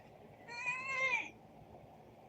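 A house cat gives one drawn-out, high meow up close, clear and fairly loud against a quiet room, followed by a faint bump.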